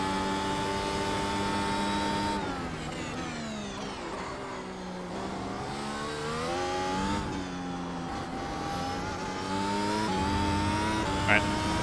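A 2022 Mercedes AMG F1 W13 race car engine on track, a high, tonal whine climbing and falling steadily through the gears, with a voice talking over it.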